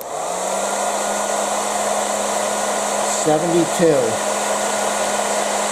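A Panasonic EH5305P hair dryer runs steadily on a low setting, a constant whirring hum, with a brief warbling whine from an excited dog rising over it near the middle.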